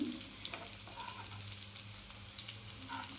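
Ingredients for a Bengali green pea curry frying lightly in a pan, a steady close sizzle with soft crackles and a few faint stirring clicks, no voices.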